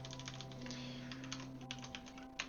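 Quiet, rapid typing on a computer keyboard, a steady patter of soft key clicks over a low constant electrical hum, close to the microphone with no talking.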